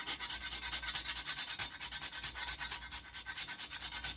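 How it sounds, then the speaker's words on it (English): Nutmeg being grated for pumpkin maple glaze cookies, a steady close scraping that repeats in quick even strokes for several seconds, with no talking. "I think I'm gonna grate a little bit of nutmeg"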